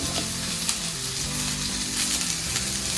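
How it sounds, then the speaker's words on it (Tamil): Food sizzles and fries in a hot pan, a steady crackling hiss with occasional stirring scrapes, as ginger-garlic paste is sautéed before tomatoes go in. "அது போட்டு வதக்கணும்"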